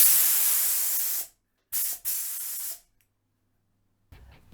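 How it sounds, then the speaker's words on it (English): Glossy spray paint jets from an aerosol can onto a helmet in close, loud hissing bursts: one long spray, a pause, two quick sprays back to back, silence, then a faint short start at the end. "I grabbed a can of spray paint that has a glossy finish"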